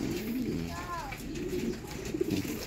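Pigeons cooing in a kept flock, soft rolling coos rising over a steady background bustle, with a person talking nearby.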